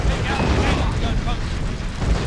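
Cannon blasts in the video game Gun, a loud continuous booming rumble with heavy low-end roar filling the whole stretch without pause.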